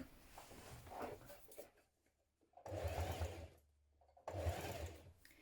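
A domestic sewing machine stitches a bias strip along the edge of a trouser pocket in three bursts: a short run, then two longer steady whirring runs, with quiet pauses between them.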